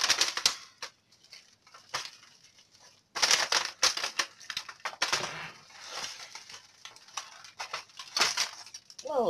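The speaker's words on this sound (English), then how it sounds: "I'm going to take it out to cut it into pieces" Knife chopping through chilled, hard rocky road: a series of sharp crunching cuts and taps on a board, irregular bursts separated by short quiet gaps, close and clear with no talking.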